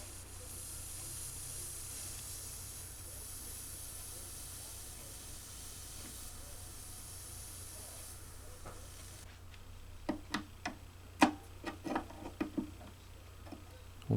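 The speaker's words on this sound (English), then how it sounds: "Warm it up with the soldering pen." A soldering pen heats a wetted fret on a Teisco EP-11T electric guitar, giving a faint steady steam hiss for several seconds, then it gives way to sharp scattered ticks and clicks.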